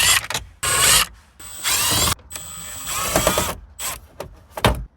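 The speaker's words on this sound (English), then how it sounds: "Now let's remove the 4 Phillips screws." Four Phillips screws are backed out of a 2001-2007 Toyota Sequoia instrument cluster with a hand tool, giving close, loud bursts of ratcheting clicks and turning, separated by short pauses.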